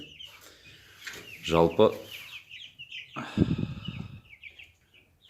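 Cobb 500 broiler chicks chirp in a continuous high, busy chatter throughout, while someone talks over them at close range.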